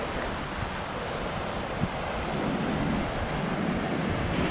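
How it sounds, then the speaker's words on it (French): Calm ocean surf near the N'Gor fishing village, a steady broadband wash of small waves with light wind noise on the microphone, continuous and moderately loud throughout with no voices. "Aujourd'hui sur l'océan, c'est calme."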